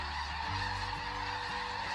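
Wild geese, the kind treated as agricultural crop pests, honking in a steady string of calls about every half second, fairly close and loud over a constant background hum, with no talking.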